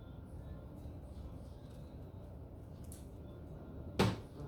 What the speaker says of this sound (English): Close drawer, set down,